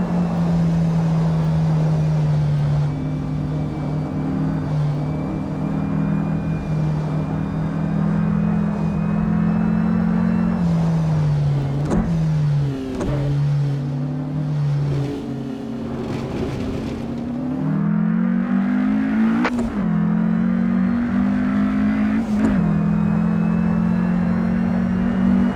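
A Porsche 550A RS Spyder in Assetto Corsa is driven on the Isle of Man circuit. Its engine drones loudly and continuously, revs climbing and dropping through gear changes, with brief dips and surges and no talking.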